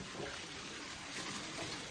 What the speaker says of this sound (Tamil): இதால் நாலு கிளாஸ் வந்துட்டு தண்ணி ஊற்றுறோம்